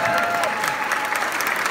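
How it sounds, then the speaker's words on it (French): Applause for a colleague at a company anniversary gathering, a dense, steady wash of many hands clapping throughout, with a faint voice near the start. "Donc on peut l'applaudir."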